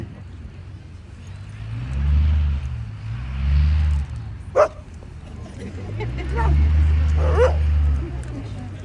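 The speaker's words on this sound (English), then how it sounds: "I think people name you a peace dog, Aloka." A dog on a peace walk with Buddhist monks gives a few short yips and whimpering barks, close by, amid low rumbling background noise and scattered voices.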